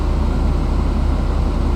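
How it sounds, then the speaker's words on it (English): A Toyota Prius engine idles steadily, a loud continuous low rumble with an even, unchanging tone and no talk over it. "it's idling fine."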